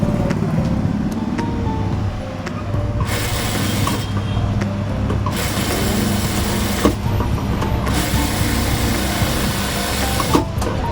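An electric sewing machine stitching cloth for a little girl's nauvari saree, running in a loud continuous whirring drone with a few brief pauses and speed changes.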